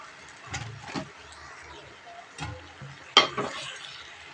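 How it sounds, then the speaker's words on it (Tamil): Bitter gourd kootu with salt and chili powder is sautéed and stirred in a pan, giving a few scattered scrapes and clinks over a faint, low sizzle, with one sharper knock near the end. "எல்லாம் கொஞ்சம் நல்லா வதக்கி விட்டுக்குவோம்"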